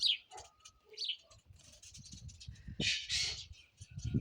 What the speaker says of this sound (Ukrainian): Горобці сваряться.